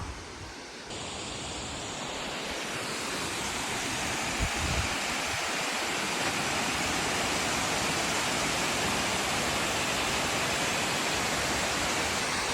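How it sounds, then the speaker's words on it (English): The waterfall at Box Elder via Dry Creek in Alpine roars as a loud, steady rush of water heard close up, with a brief thump near the middle. "made it to the bottom of the falls here"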